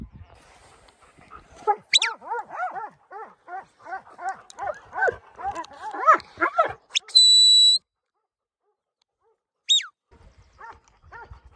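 A New Zealand Huntaway working dog barks in a rapid run of loud, deep, repeated woofs, followed by a short high electronic beep, a couple of yelps and then a few more barks.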